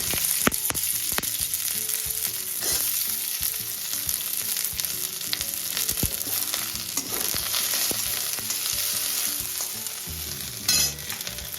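Okra sizzles steadily in hot oil in a pan with mustard seeds and five-spice, giving a continuous crackling hiss. Scattered pops and stirring scrapes run over it, close up and with no voices.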